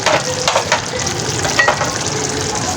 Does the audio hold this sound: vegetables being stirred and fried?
yes